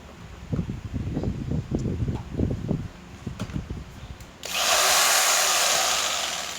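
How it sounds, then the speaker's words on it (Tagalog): A 650-watt electric jigsaw starts with a few short, uneven bursts and clatters, then settles into a steady, loud, hissing motor whine that runs to the end. "Si jigsaw po natin, 650 watts na po siya."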